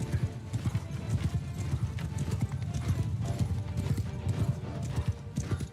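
Cavalry horses in a strategy video game gallop in a dense, continuous rumble of many hoofbeats, with whinnies mixed into the loud massed drumming.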